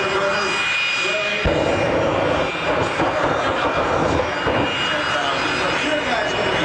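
A jet aircraft engine roars in afterburner at the Reno Air Races, a loud, steady, close broadband blast that swells slightly, with a commentator talking over it.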